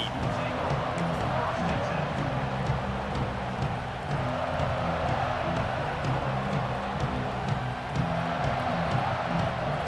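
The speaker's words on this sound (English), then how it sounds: "This crowd ready to make its presence known." Stadium crowd in EA Sports College Football 26, a steady dense roar of many voices throughout, loud and unbroken, with a commentator talking over it.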